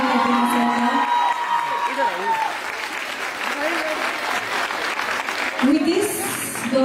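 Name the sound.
audience applause welcoming Sanjeev sir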